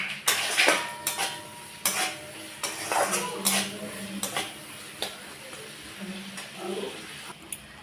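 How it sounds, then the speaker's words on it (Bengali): Masala and tomatoes being cooked down in a pan for koi fish jhal, with sharp spatula knocks and scrapes against the metal every second or so over a faint sizzle. "টমেটোটা যতক্ষণ গলবে না ততক্ষণ কষিয়ে যাব।"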